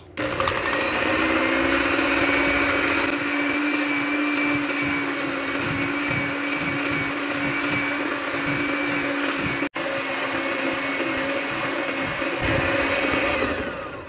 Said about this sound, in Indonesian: Dikocok kira-kira 5 menit sampai putih.